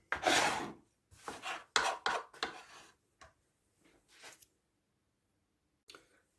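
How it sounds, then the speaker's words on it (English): Cutting board being scraped to remove its worn top layer, a series of short rasping scrapes in uneven bursts with quiet pauses between, close and dry. "as long as I keep on scraping off the top layer, it's still good to go"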